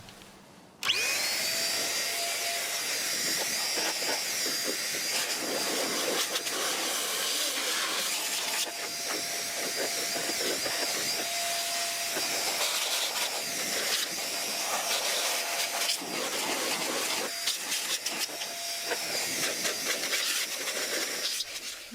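An air compressor blows dust out of Dell Optiplex 390 desktop PCs, making a loud, steady rushing hiss that starts abruptly and continues almost unbroken for the whole stretch, with slight surges in intensity.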